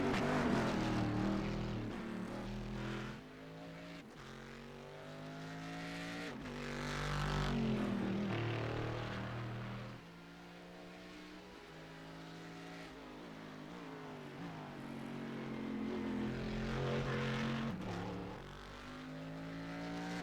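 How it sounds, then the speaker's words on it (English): A Corvette race car engine in a sports car racing video game roars around the track, repeatedly rising and falling in pitch through gear changes and acceleration, loud and close with no talking. "As we listen to that Corvette rip its way around in the final laps here"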